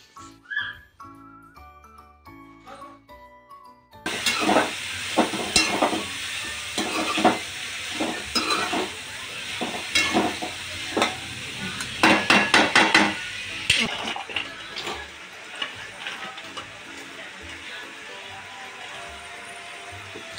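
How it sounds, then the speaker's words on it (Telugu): Boiled broad bean pieces are tossed and fried in a pan over a medium flame. After a quieter opening, a steady close sizzle begins, broken by repeated clattering stirs and scrapes. "అవి మంచిగా అట్లా టాస్ చేసుకుంటూ కలుపుకొని ఒక 5 minutes కొంచెం మీడియము లో ఫ్లేమ్లోకి అడ్జస్ట్ చేసుకుంటూ వేయించుకోండి"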